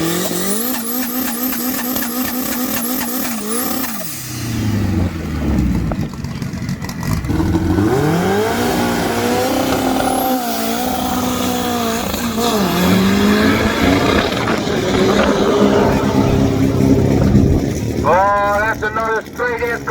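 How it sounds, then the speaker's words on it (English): A Ford Escort Mk 1 dragster launching off the drag strip line, with loud revving, tire squeal and a roaring run of engine noise under overlapping voices and commentary. "Another straight Escort leaving the line."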